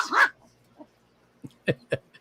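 A dog gives a few short, close barks and yips with a brief whimper-like sound at the start, separated by quiet gaps, in an indoor room.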